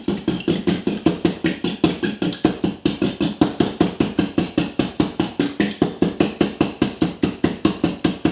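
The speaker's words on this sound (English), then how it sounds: "put the eggs in this bowl, beat them just a little bit" Eggs are beaten in a bowl with a fast, steady rhythm of sharp clacks, about five per second, close and loud, with no talking.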